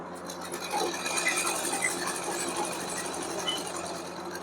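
A sewing machine stitches a pocket onto ladies' pants, giving a steady, close-up whir with rapid, rattling needle patter that runs without a break and with no talk.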